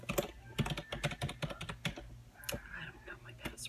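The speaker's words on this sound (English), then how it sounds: "I type ferociously, according to my husband." Fast, heavy typing on a computer keyboard, a close rapid run of sharp key clicks in irregular bursts with brief pauses, and a voice speaking softly near the end.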